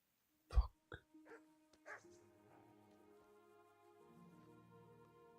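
A dog barks in the medieval video game Kingdom Come: Deliverance, a few sharp close yips and barks in quick succession, then low game ambience and a faint murmur.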